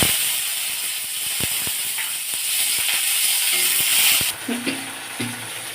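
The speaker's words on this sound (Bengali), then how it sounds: "টমেটোটা আমার ভাজা হয়ে গেছে" Tomatoes fry in a pan for a potato curry, a steady hiss and sizzle with scattered clicks of a spatula stirring, ending in a few clinks and scrapes as the sizzle eases.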